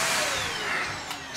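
A newly bought household vacuum cleaner runs steadily and close by with a loud, even whooshing roar and a thin motor whine, no voices over it.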